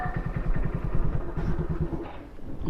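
A motorcycle pulls up close by at a farmhouse, its engine putting out a rapid, even thumping that settles slightly toward the end.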